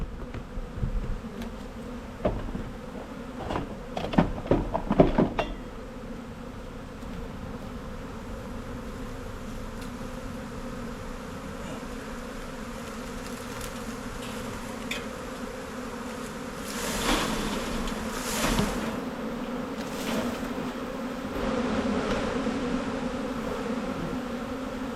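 A honeybee swarm buzzes steadily around a hive box on a cart, a dense close hum with individual bees zipping past the microphone and some brief knocks early on.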